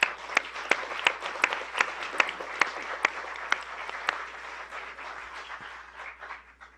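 An audience welcomes speaker Gregory Jaczko with applause, a room of claps starting with distinct loud pops and settling into a steady, softer patter before fading out.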